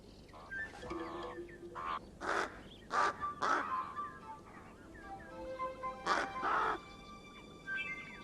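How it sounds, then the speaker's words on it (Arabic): A dughnash bird sings in the desert of the Empty Quarter. Repeated short, harsh calls come in irregular bursts over a quiet background, moderately close, with some fainter tonal notes between them. "يشدو طائر الدغناش هذا 20 دقيقة متتالية أحيانا"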